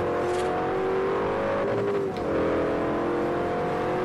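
Engine of a 1992 Bugatti in Forza Horizon revving hard and accelerating, a loud steady whine climbing in pitch, dipping briefly at a gear shift around two seconds, then rising again, with no talk.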